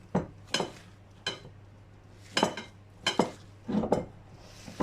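Wire whisk folding beaten egg whites into a chocolate mixture in a bowl for a three-ingredient cake, heard as a series of close, irregular scraping and clinking strokes against the bowl with pauses between them.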